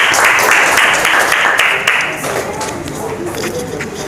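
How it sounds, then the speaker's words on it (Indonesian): A vocational high school class claps for a presenting group, a loud close burst of hands that thins and tapers off midway, with murmuring voices underneath. "Oke, tepuk tangan dulu."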